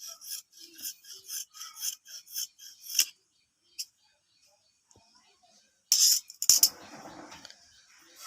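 Scissors trim the cut edge of fabric for a box-neck nighty: a run of quick rasping snips, a pause with a lone click, then a louder burst of rustling cloth and cutting.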